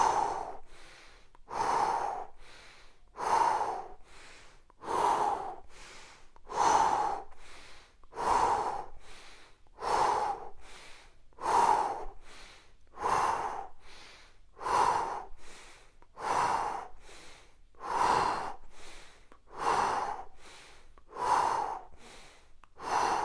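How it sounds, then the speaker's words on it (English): Steady, rhythmic breathing during a home workout exercise, with repeated inhale and exhale cycles about every second and a half, close and clear with no talking over it. "Inhale as you go back, exhale as you go forward."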